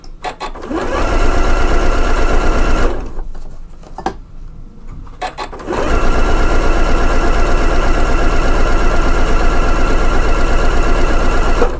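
Janome Memory Craft 9480 computerized sewing machine running a simple straight stitch on light cotton fabric: a close, loud, steady motor hum with rapid needle clatter, which halts for about three seconds mid-clip and then resumes at full speed.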